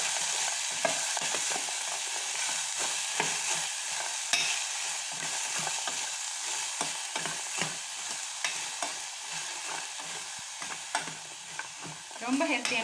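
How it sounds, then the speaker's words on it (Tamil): Carrots and cabbage are stirred in a pan for vegetable ragi soup, with a steady sizzle under repeated scraping strokes of the spoon, close and moderately loud throughout. "அதே மாதிரி கோஸ் இப்போ நல்லா மிக்ஸ் பண்ணிக்கலாம்"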